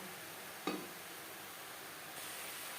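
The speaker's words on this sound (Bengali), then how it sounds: "এখানে আমি দু তিন মিনিট হাই টু মিডিয়াম ফ্লেমে নাড়াচাড়া করে নেব" Radish and puti fish stir-fried in a pan over high to medium flame give a faint, steady sizzling hiss, with one brief scrape of stirring near the start.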